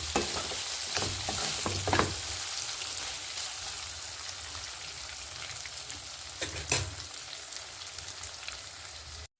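Prawns frying and roasting in a little ghee in a pan, giving a continuous crackling sizzle with a few stirring scrapes and spatula knocks near the start and middle.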